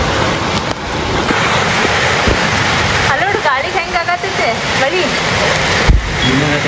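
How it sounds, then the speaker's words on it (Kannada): Monsoon wind and rain roar steadily in a broad, continuous wash, with gusts swelling and a voice talking over it in the middle. "ಹೆಂಗೆ ಹಾರಾತೈತೆ ನೋಡ್ರಿ ಗಾಳಿ ಮಳಿ ಹನಿ"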